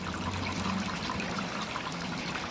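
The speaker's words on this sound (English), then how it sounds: "there's a lot of water coming out of that one" A solar pump water feature pours water in a steady, soft splashing trickle close by, continuous and unbroken for the whole moment, with no voices.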